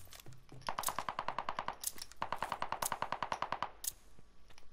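Rapid automatic gunfire from a Call of Duty Vanguard ranked Search and Destroy match, two long sustained bursts of closely spaced shots with a shorter burst before them, loud and with no talk over it.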